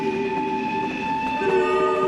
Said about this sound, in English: they walked to their local train station and got on the first train bound for Italy